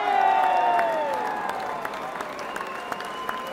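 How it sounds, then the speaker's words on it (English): Applause from the audience at a Northampton Town football club end-of-season awards ceremony, a steady ripple of clapping heard over lingering tonal music and a few voices, gradually easing in loudness. "can we have a big round of applause"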